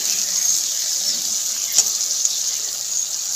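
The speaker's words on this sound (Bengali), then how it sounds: "এবার মশলা দিয়ে ভালো করে মাছগুলোকে একটুখানি কষিয়ে নেব" Raw tilapia pieces rubbed with salt and turmeric frying in oily spice paste, giving a steady, fairly loud hiss and sizzle with a few small pops, no talking.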